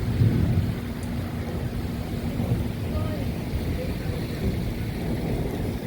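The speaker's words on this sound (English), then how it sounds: "There's the thunder." A low rumble of thunder rolls through a severe thunderstorm on Dauphin Island, Alabama, loudest at the start and fading into the steady hiss of rain that continues throughout.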